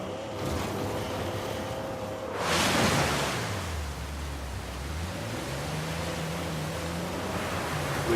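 In Uncharted 4, a waterfall near a secret cave sends up a constant broad rushing roar with a brief louder surge partway through, while low tonal game sounds hum beneath.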